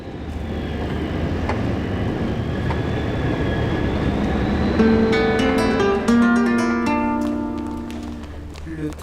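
A train pulls out of a station, its broad low rumble and rising mechanical hum building steadily, with tonal whines and squeals joining partway through, under a station announcement and chatter.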